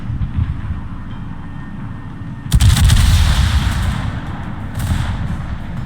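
Battleship main-gun salvo in World of Warships fires as one sudden heavy boom, followed by a rumbling decay and a second, smaller report near the end, with no talk.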